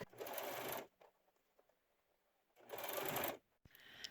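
A sewing machine stitches a twice-folded fraying fabric hem for a rainbow ruffled kaftan in two close bursts of rapid whirring, separated by a quiet pause with faint handling clicks.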